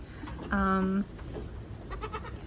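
A baby goat bleats once, a loud harmonic cry of about half a second, with faint further kid bleats and light rustling on a small farm during kidding season.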